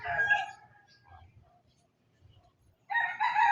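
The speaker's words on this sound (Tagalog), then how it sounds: "Pakaingay ng mga manok dito" Backyard chickens call out, a rooster crowing near at the start and again loudly at the end, with softer clucks and low rustling in the quiet gap between.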